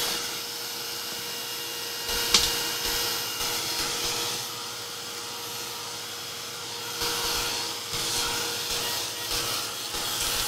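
Air blows steadily across the back of a monoprint of feathers to dry it, making a continuous whooshing drone for about ten seconds with slight swells and one brief bump.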